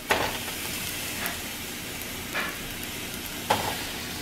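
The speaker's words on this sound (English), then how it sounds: "Can we hear that sizzle?" Steaks frying in a pan give a steady close sizzle, with a few brief louder bursts and scrapes as they are stirred or turned.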